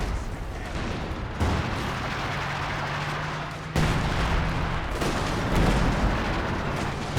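Howitzer artillery fire in the video game Company of Heroes 2 lands as heavy booms over a dense rumbling battle din, with a sharp blast near the middle and continuous explosive noise throughout.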